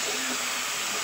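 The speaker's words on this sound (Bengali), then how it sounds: "এবার এগুলো আমি একটুক্ষণ ফুটিয়ে নেব" Capsicum simmers in a pan of fried-down masala for a Bengali katla fish dish, giving a steady, soft bubbling hiss that holds even and unbroken throughout.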